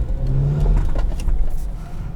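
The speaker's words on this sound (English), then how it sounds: "And you can make boost noises" A 2008 Acura RDX turbo engine revs briefly from inside the cabin, a loud, steady mid-range drone with a rising whoosh layered over it, with no talking.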